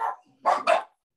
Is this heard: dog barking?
yes